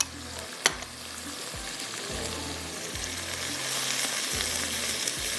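Green chili paste and black pepper fry in hot oil with a steady close sizzle, punctuated by a few knocks and scrapes from stirring over a low pulsing hum.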